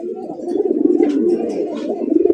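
Rasgolla pigeon, red with white breast and tail, cooing in a low, close, continuous throaty murmur with a faint rise and fall; no talking.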